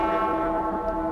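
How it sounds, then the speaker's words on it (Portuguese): A church bell rung by the sacristan during a Sacred Heart trezena service hums with a dense, sustained ring. The sound is loud and continuous, with no talk over it. "toca o sino, sacristão"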